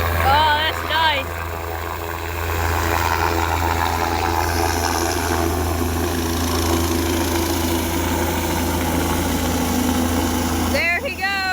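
Helicopter lifting off from a local park, a steady low engine and rotor drone holding throughout, with people talking and exclaiming over it nearby.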